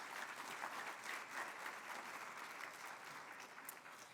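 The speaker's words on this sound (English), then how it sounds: "so let's all give them a big round of applause." Applause from an audience at an evening charity event, broad continuous clapping that holds steady throughout and fades a little toward the end, with no talk over it.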